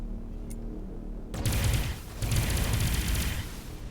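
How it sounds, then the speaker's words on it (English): In the space game Avorion, an enemy ship fires on the player, bursting into two rapid, loud rattling volleys of rumbling shots separated by a short dip, over a low steady drone. "Oh, he's firing something at me."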